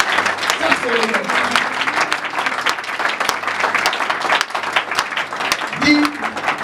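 A church congregation at a Sunday service applauds and claps steadily for Jesus, a dense wash of hand claps throughout with voices calling out over it and a louder swell near the end.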